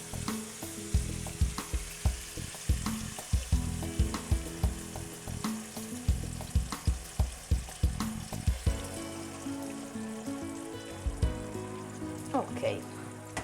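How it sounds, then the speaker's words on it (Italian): Tomato passata is added to browned sausage in a pan, setting off a loud close sizzle with rhythmic scraping stirs, then a softer bubbling fry as the sauce settles. "quando la salsiccia è abbastanza rosolata, possiamo aggiungere il sugo"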